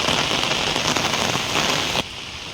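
Heavy rain pours steadily onto the ground outdoors, a dense, loud, continuous hiss that drops off abruptly near the end.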